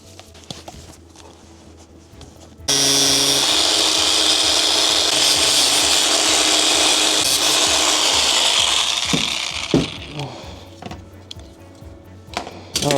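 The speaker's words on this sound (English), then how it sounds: "where I need to cut my Max Air Fan shroud." A power tool cuts a MaxxAir fan shroud for a campervan shower room, a loud, steady whirring and grinding that starts abruptly and runs about seven seconds, followed by scattered knocks and handling noises.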